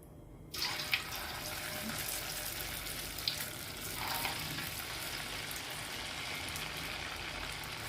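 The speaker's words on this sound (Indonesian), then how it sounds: "Ini cara menggoreng ini" Tofu pieces for salt-and-pepper spicy tofu frying in hot oil, a steady dense sizzle that starts abruptly and holds loud and close, with a few faint clinks on top.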